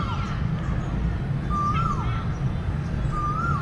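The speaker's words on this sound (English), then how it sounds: "I always hear it, but I can never see the bird." An unidentified bird calls on a street in Melaka, Malaysia, giving three short whistled notes that rise and fall, spaced over a few seconds above a steady wash of street noise.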